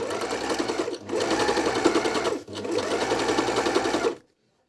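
A MEDION MD-19169 overlock sewing machine runs in two steady bursts of close, loud whirring stitching with a brief pause between them, then stops abruptly into silence.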